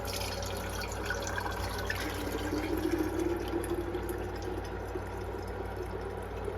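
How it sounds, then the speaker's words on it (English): Melted beef tallow is poured through a strainer into a jar. It makes a steady, close liquid trickle and splash that runs the whole time, with no talking. "We've got a jar here with a strainer, so we're gonna pour it in there"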